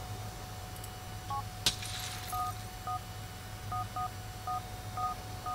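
A mobile phone in the game GTA IV chimes with a short run of electronic beeps as a text message arrives, repeated tones sounding over a low steady background hum with a brief sharp click early on.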